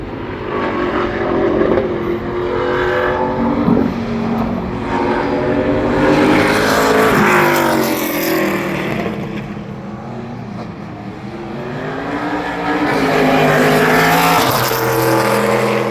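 ARCA Menards Series race cars circle Berlin Raceway during qualifying, loud engines rising and falling in pitch as they pass, sweeping in and out with a continuous roar.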